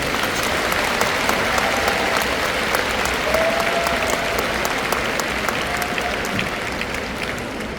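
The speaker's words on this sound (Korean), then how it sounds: "뜨거운 박수로 모시겠습니다" A large church congregation at a Korean denominational anniversary assembly breaks into sustained, loud applause to welcome a speaker. The dense, even clapping fills the hall and holds steady for eight seconds, thinning slightly near the end.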